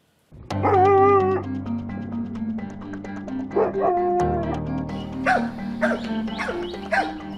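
Dogs bark and whimper in a busy run of yips, whines and short barks, fairly close and loud, with no talking over them.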